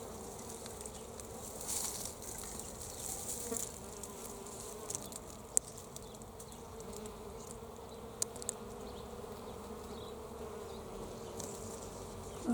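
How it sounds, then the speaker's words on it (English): Bees hum steadily around white star-shaped capsicum flowers on a male plant outdoors, a continuous buzzing drone with occasional louder passes near the microphone. "Lots of humming of bees."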